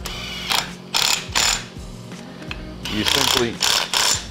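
A ratchet clicks in quick bursts while fastening a 30 Series go-kart torque converter, several loud close ratcheting strokes with brief pauses between, as someone speaks briefly.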